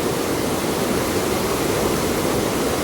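River water rushes over rapids in Northern Ireland, a dense, steady roar heard close and loud throughout with no voices.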